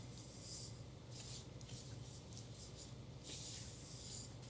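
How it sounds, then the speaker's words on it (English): A spatula stirs a dessert pie mixture in a bowl, making soft, faint scraping and swishing strokes in a few slow, rhythmic sweeps with no talking. "I'm going to stir that up."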